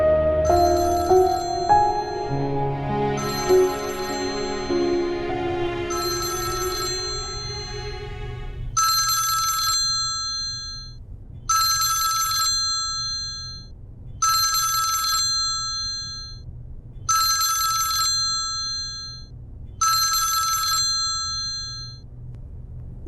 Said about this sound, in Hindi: फोन बज रहा है किसी का।